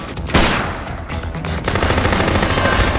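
Loud sustained machine-gun fire in the zombie game Dead Rising: Chop Till You Drop. A single sharp shot is followed by a rapid continuous rattle of automatic bursts close up, with no voices.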